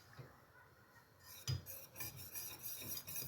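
Cheesecake cream mixture flavored with orange blossom water and mastic is stirred in a pot, giving a soft continuous scraping and swishing with a few brighter clinks of the utensil against the pot, close and fairly quiet.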